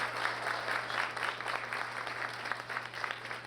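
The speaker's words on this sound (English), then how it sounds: "a big round of applause to Tashetta Henry for" Steady applause of modest volume rises from the audience at a college employee recognition and year-end celebration, even patter with a faint low hum underneath.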